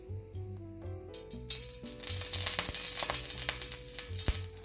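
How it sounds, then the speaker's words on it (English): Oil poured into a heated pan for Sri Lankan Chinese-style fried rice, a faint start rising into a steady broad sizzle with occasional crackles and pops, close up, over soft background music. "Add the oil."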